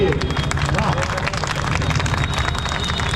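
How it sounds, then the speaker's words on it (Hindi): A crowd at an outdoor gate inauguration ceremony in Lucknow claps, making a dense, continuous roar of hands mixed with crowd babble and background noise. "और अंदाजा लग गया तो एक बार फिर से ताली बजाइए।"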